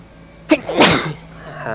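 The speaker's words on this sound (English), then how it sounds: "With that sneeze" A single sharp human sneeze, close and fairly loud, with a short intake burst followed by the main explosive blast and a brief trailing breath.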